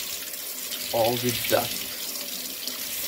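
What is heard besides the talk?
cold tap water running over a tea bag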